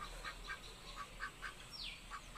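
Ducks quack in a garden pen shared with hens, a steady string of short nasal calls at moderate distance, with one brief higher chirp and no talking.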